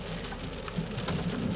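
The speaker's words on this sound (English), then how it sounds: "It's hailing again." Hail falling steadily at a remote backcountry lake, a dense wash of fine pattering impacts on surfaces, fairly constant and close, with no voices.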